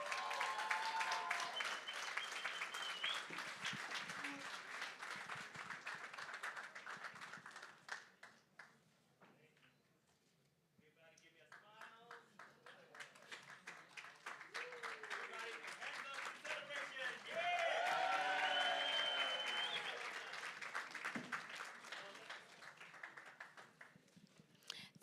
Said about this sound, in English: a big round of applause for these young ladies